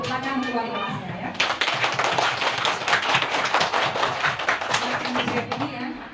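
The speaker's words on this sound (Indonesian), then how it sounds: "Hebat, tepuk tangan luar biasa ya." Children in a primary school classroom break into lively, dense clapping that lasts several seconds, with a teacher's voice heard briefly before and after.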